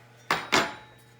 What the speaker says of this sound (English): I'm mixing the wet ingredients together